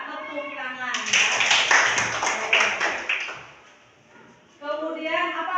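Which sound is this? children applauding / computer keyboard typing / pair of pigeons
children applauding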